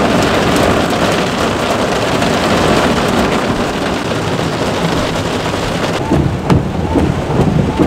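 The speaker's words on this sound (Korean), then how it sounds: "와 천둥번개." A heavy thunderstorm outdoors, with dense, steady, loud rain pouring throughout and low thunder rumbling beneath it, with no talking.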